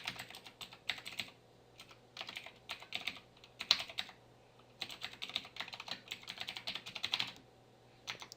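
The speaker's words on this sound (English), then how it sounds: "we type in per se the email address that I've made just specifically for this video" An email address typed on a computer keyboard, quick bursts of close, crisp key clicks separated by brief pauses, fairly quiet and without talk.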